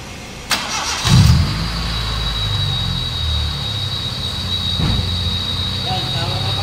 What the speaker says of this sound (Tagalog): tapos i-start ko sa loob kung may bulwak pa ba